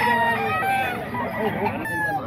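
At a poultry market in Bocaue, Bulacan, many roosters crow loudly and overlap while hens cluck nearby, forming a dense, continuous chorus of fowl.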